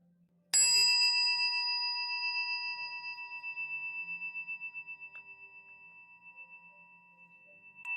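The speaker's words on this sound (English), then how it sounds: "Allowing the sound of the chime to call you back" A single meditation chime is struck once and rings out clearly, its sustained tone slowly decaying with a gentle pulsing shimmer over several seconds in a quiet room.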